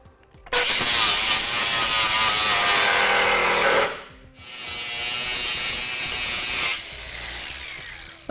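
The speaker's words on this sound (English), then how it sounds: "we can clean up the excess with a grinder" Angle grinder cleaning excess steel off a cut on a Blue Ox base plate installation for a 2015 GMC Terrain, two loud sustained bursts of harsh whining grind with a short gap between, the second run trailing off quieter.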